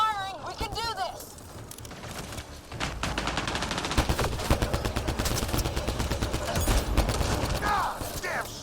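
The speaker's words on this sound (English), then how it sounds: "Just keep firing, we can do this!" Rapid bursts of gunfire from a sci-fi firefight in the video game Mass Effect: Andromeda, dense and continuous after a quieter opening, with shots crackling close over a busy battle backdrop while a voice speaks near the start.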